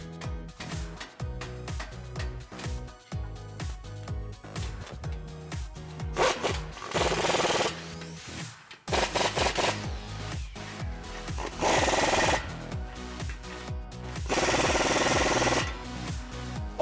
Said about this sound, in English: Then we're gonna run through and tighten down the 2 clamps, one up front here and one behind the muffler with a 15mm socket.